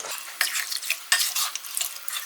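Chicken biryani masala with a cup of water added is stirred in a pan, giving irregular scraping and sloshing strokes over a faint sizzle, close and fairly quiet.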